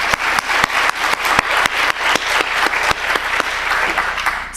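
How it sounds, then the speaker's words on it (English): Audience applause at a keynote address, a steady crowd of clapping with several sharp individual claps standing out in a loose rhythm, loud and close throughout. "I'd like everyone to give them a round of applause."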